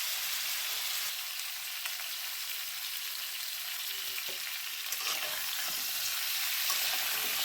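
Pui shak greens fry and get stirred in catla fish oil, giving a steady, close hiss of sizzling with occasional scraping stirs and no voices.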